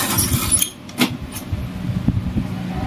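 A computer keyboard is shifted and tidied on a desk during a Naruto Shippuden Ultimate Ninja Storm Revolution game session, giving a few short plastic clatters and knocks over a low background hum.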